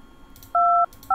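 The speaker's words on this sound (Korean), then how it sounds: "그러면 전화를 해봐야겠네요." Phone keypad tones sound as a telephone number is dialed in the video game Thimbleweed Park: two short, clean dual-pitch beeps, the second cut off, over a quiet background.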